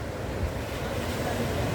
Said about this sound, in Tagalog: Medyo malaki ang alon, mga amigo.